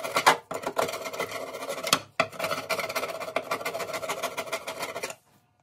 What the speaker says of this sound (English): Scrape off any residual.